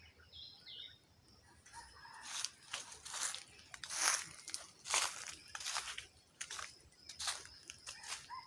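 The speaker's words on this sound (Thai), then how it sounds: "ไก่ขันเลย ทั้งพุ่นน่ะไก่ขัน ทั้งล่างกับไก่ขัน" Roosters crowing in the early-morning forest, several long cock-a-doodle-doo calls repeating every second or so from fairly distant birds, faint over quiet background.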